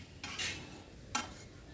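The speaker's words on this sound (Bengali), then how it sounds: "মিনিট খানেক খুব ভালো করে কষিয়ে নেবো আলুর সাথে মশলাটা। অনবরত কিন্তু নাড়তে হবে" Fried potatoes with spice paste being stirred in a pan, two short scraping strokes of a utensil against the pan over a faint low sizzle, quiet and close.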